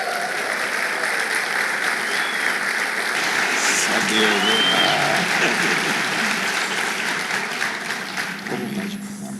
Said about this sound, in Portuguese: Eu queria que você também saudasse ao Senhor e aplaudisse ao Senhor